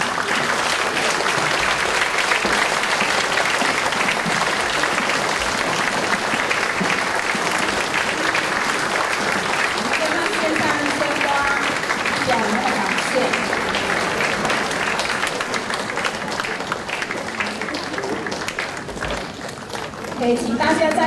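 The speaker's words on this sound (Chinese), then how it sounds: "掌声欢迎我们的表演者上场" A large audience greets choir performers walking onstage with sustained, dense applause lasting the full stretch. It stays loud and even, easing slightly near the end, with a few voices faintly audible beneath it.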